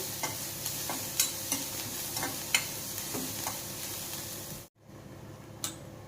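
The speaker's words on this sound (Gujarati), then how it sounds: "ડુંગળી આપણે પહેલાં સાતળી લઈએ।" Onions sauté in a pan with a steady close sizzle and scattered stirring clicks. A brief dropout of near silence falls near the end before the frying resumes.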